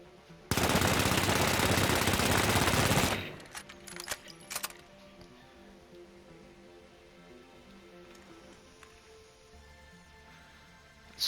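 Sustained automatic fire from a gun in The Finals during a recoil test, a dense loud burst of about two and a half seconds, then a few scattered sharp shots and quiet game ambience.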